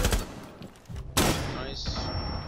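Enemy pre-firing gunshots in Rainbow Six Siege, a quick volley of sharp shots followed by a loud blast and impact rattle, with a thin high ringing tone trailing after.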